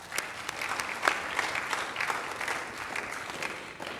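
An audience at a college student-athlete award ceremony claps steadily, a moderately quiet, even patter of many hands with no voices on top.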